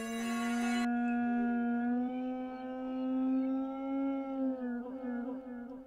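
A wolf howl sample plays in Pro Tools, a long sustained wavering tone rich in harmonics that slides slightly in pitch, with a brief noisy burst at the start and no talk over it.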